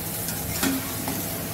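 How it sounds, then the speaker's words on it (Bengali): Large onion pieces for chicken soup are stirred in a pan over high flame, with a steady close sizzle and hiss throughout and a faint utensil scrape in the middle; no talking. "পেঁয়াজের খণ্ডগুলো বড় বড় দিয়েছি, এবার নাড়াচাড়া করি হাই ফ্লেমে দিয়ে দিচ্ছি"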